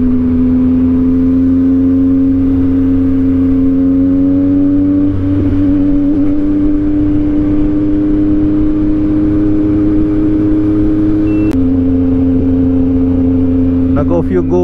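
A motorbike engine drones steadily at close range during a solo ride at the Kadayawan festival, its hum holding an even, sustained pitch with a brief dip near the end.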